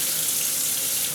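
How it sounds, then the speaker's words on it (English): A pullout hand sprayer on a kitchen faucet runs water in a steady, loud hiss into a sink, close up and with no talking. "Now see the water, I can tell the water pressure is just a hair better than the other two"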